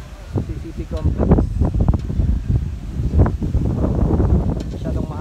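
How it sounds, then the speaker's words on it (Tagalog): Strong wind at the seaside beside Pier 15 in Manila buffets the microphone in loud, gusty bursts, and a person talks over it throughout. "Masyadong mahangin lang dito ngayon kasi gilid ang dagat."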